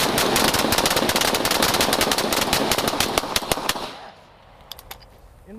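An Echo1 Stag Arms airsoft rifle with a high-capacity magazine fires a rapid, sustained full-auto burst up close, ending in a few scattered single shots after about four seconds.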